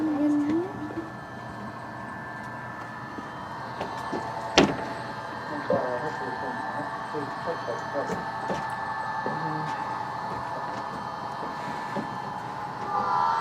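HO scale model train led by an F40 locomotive runs steadily on an indoor layout at a depot, a low continuous hum and rumble with a sharp click partway through, while people talk nearby.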